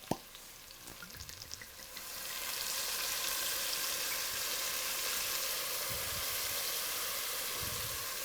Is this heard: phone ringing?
no